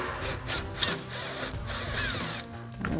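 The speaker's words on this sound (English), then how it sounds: "we're going to grab our T40 Torx bit on our impact." An impact driver with a T40 Torx bit backing out a hinge detent bolt on a Jeep Wrangler JL spare tire carrier, giving a continuous rattling, hammering whir with slight dips, fairly quiet and close.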